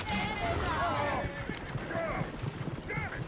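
Horses clop and whinny in Red Dead Redemption 2, hoofbeats and a neigh mixed under a man's loud, excited talking.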